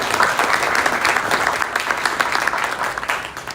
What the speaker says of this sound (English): I want everyone to give a round of applause to our learned speakers who did an amazing job